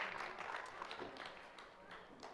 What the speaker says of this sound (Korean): 학생들 부러움의 박수